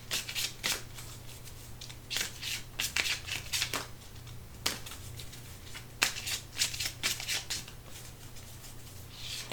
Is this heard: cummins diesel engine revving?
no